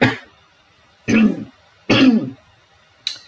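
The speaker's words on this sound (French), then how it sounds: "je vais tousser déjà" A smoker coughs and clears the throat in a few loud, close bursts, with short silent gaps between each harsh rasping sound.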